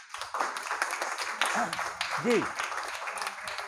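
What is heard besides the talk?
students applauding for the Hindi language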